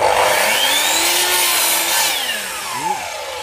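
A sliding saw whines loudly as it cuts through wood, the motor pitch rising and then dropping as the blade slows.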